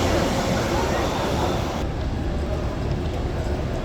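Busy ambience inside Stockholm Central railway station in Sweden, a steady broadband hum and rumble of a large hall with crowd murmur and distant train noise, continuous throughout at a moderate level with a slight drop in brightness partway through.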